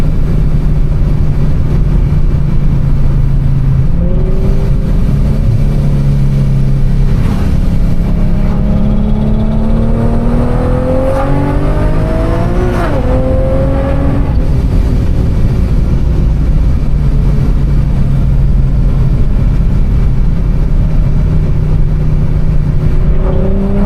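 A 700 hp Infiniti G37 engine revs loud and close, its pitch climbing and falling through several rising pulls as the tires break traction, with no voices.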